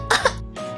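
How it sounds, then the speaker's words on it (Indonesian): A cartoon child's fake cough: two short, harsh throat bursts in quick succession, close and fairly loud, followed by a brief breathy sound. "Oh, suara batukmu parah banget."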